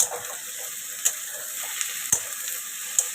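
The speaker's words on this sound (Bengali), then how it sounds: "আলুটা আমি ফ্রাই আলুটা দিয়ে দিলাম।" Potatoes frying in a pan for a home-cooked paneer curry, a steady close sizzle with a few sharp clinks of a utensil against the pan at intervals, no talking.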